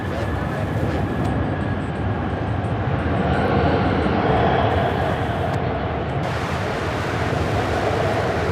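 A Boeing 777 airliner arriving at Charlotte airport after a long flight from London roars steadily in a broad, sustained engine rumble that holds loud throughout.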